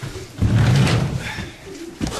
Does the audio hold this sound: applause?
no